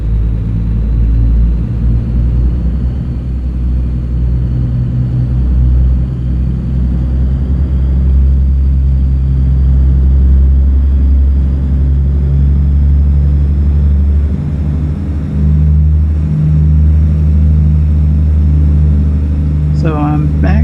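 A Kenworth W900 truck in American Truck Simulator rumbles steadily with a deep, continuous engine drone that stays loud and close throughout, with a faint rise in revs near the end.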